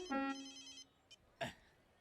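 Telephone ringing, a single short electronic ringtone burst that cuts off quickly, followed by faint small clicks and a soft thump in a quiet room.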